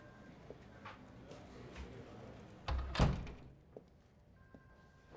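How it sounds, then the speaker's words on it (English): An interior door shuts in a quiet room with one muffled thunk near the middle, then a small knock and faint room noise follow. "Shut the door."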